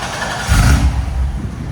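An LS3-swapped C5 Corvette with a Valvetronic universal muffler, valves closed, gives one brief, loud, deep exhaust burst midway through a short stretch of engine noise, with no voices.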